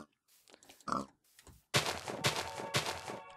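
A pig oinks and grunts in the Minecraft video game, with MITE mod gameplay. Short grunts come in the first half, then a louder, denser stretch of game sound follows.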